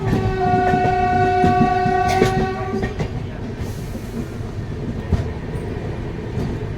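A train on the Digha–Visakhapatnam Express pulls into Visakhapatnam station, its horn sounding in long sustained blasts over rumbling wheels that then settle into steady clatter and rolling noise.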